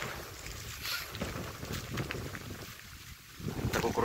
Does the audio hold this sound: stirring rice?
no